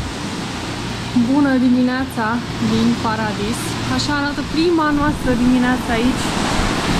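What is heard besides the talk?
ocean waves on the beach in the morning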